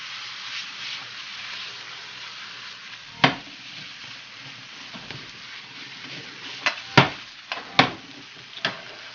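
Shrimp pasta with a quarter cup of basil pesto stirred in a pan, a steady close sizzle running throughout with several sharp utensil scrapes and clacks against the pan near the end.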